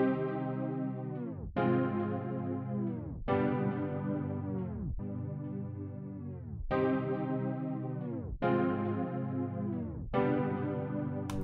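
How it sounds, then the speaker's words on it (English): Drill beat chords from an FM electric piano patch, processed with a tape-style stutter effect, strike in seven sustained, slowly decaying stabs at an even, slightly swung pace, each warbling and smeared, with no drums or voice. "And I also have a gross beat on it, just giving it like a little tape slab effect."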